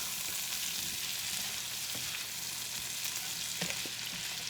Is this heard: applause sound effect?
no